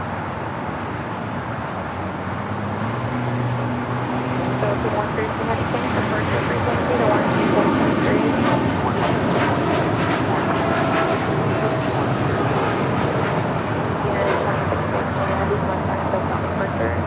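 A United Airlines Boeing 787-10 Dreamliner bound for Newark takes off from the south side at LAX, a broad jet roar building gradually and sustained throughout, with a person talking over it.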